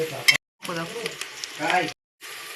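Chopped onion frying and being stirred in a pan as it browns, a close crackling sizzle cut by short gaps, with a scraping stir and a faint voice in the middle.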